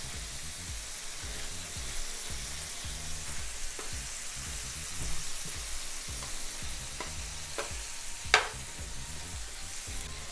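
A burger patty for a BBQ triple cheeseburger sizzles on a grill right after being flipped, a steady close hiss with a few sharp pops and one louder snap near the end, with no talking.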